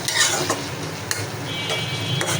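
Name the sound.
stirring taro greens with shrimp, green chili and coriander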